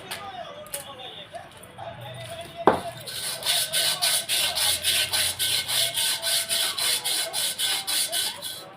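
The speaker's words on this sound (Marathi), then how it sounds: "याला ना मस्त कार्बननी घासून काढते आता. आणि कार्बननी घासून ना याचं गंज पण निघून जाईल." Carbon paper scrubs rust off an iron mortar and pestle in steady back-and-forth strokes, a rhythmic rasping that starts after a sharp knock and keeps an even beat, loud and close.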